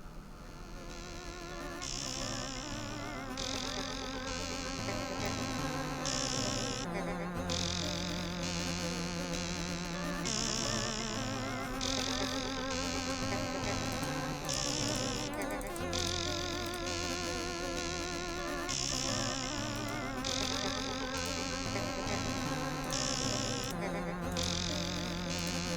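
A recorded music piece is built from dense, continuous insect-like buzzing and droning layered in repeating pulsing blocks, loud and sustained throughout.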